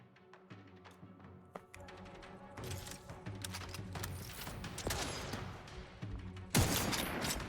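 Rapid bursts of sniper rifle fire and impacts in the video game The Outer Worlds 2, sharp clustered cracks over a busy game soundscape with music and effects, no talking.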